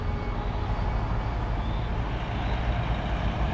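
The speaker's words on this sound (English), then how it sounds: "Another car coming." A car rolls past on a rural road, a steady broadband road roar and engine rumble at moderate distance with no talk.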